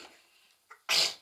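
A single sharp sneeze bursts out close by, preceded by a small intake of breath, loud and brief against a quiet room.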